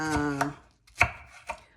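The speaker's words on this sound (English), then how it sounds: "So I'm chopping my apples up." Knife chopping through Pink Lady apples on a cutting board, three crisp, close cuts spaced about half a second apart with quiet gaps between.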